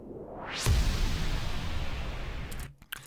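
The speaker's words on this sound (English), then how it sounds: "I have this white noise and then impact stuff that I do" A rising swell of white noise synthesized in Serum builds up, then a heavy low impact hits and leaves a long noisy wash that fades near the end.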